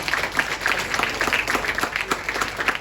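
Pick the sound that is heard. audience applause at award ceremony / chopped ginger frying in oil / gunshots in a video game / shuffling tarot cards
audience applause at award ceremony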